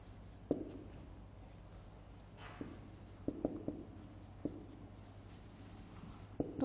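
Pen or chalk writing out notes during a geography lecture on India's physical features, a steady scratchy scribble broken by sharp taps as strokes start and end, close and alone over a low steady room hum.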